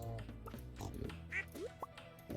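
Farm animals in the Stardew Valley video game give short cartoonish calls, a quick run of quacks and oinks over soft background music, fairly quiet with no talk.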